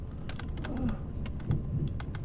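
Typing on a computer keyboard, a quick irregular run of close, light key clicks over a low steady background hum.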